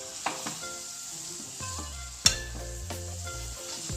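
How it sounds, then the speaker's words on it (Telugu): Ivy gourd and onion frying in a pan for a masala curry, a steady close sizzle with stirring scrapes and one sharp clatter of the spoon against the pan midway. "దొండకాయ కొద్ది ఉల్లిపాయ ఇదంతా ఎర్రగా వేయాలి"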